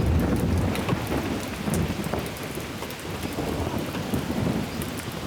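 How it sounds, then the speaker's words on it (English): Heavy rain pours steadily on an island, with rolling thunder rumbling low underneath throughout, loud and close with scattered sharp drops. "It's raining, raining"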